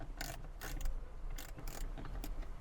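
A ratchet unscrewing 8mm bolts from the interior trim of a 2022-or-later Subaru BRZ or Toyota GR86, with rapid clicking strokes in about five short close bursts and no talk.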